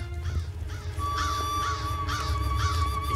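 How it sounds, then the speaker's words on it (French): Crows in a French cartoon, several cawing in repeated hoarse calls over a sustained musical score with a high held tone. "C'est bizarre, tous ces corbeaux réunis."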